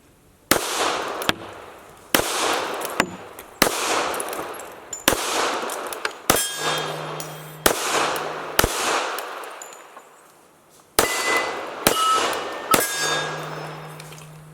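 Sig P220 pistol fired at steel targets outdoors, about ten sharp loud shots in an uneven rhythm, several followed by a brief metallic ring from the struck steel.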